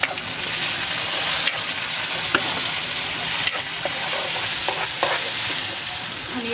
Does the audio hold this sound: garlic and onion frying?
yes